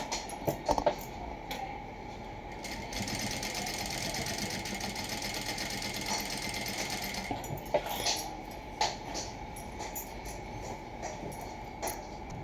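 A sewing machine runs steadily while stitching a plain blouse along a back fold, its motor hum and needle chatter continuous with a few brief pauses and knocks.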